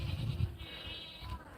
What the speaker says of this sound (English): That goat's already figured out where the corn comes from.